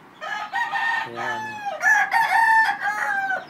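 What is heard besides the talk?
fighting rooster crowing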